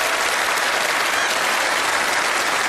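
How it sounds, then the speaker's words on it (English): A studio audience at a televised magic show breaks into loud, continuous applause, a dense unbroken roar of clapping throughout. "Let's give him a big round of applause, please."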